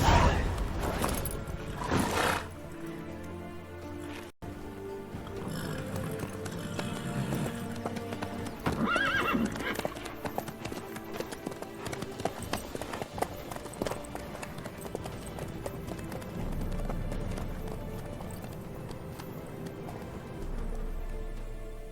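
Horse hooves clip-clop steadily through The Witcher 3 Wild Hunt gameplay, a continuous rhythmic trot layered with game ambience and music for over twenty seconds, with no voices.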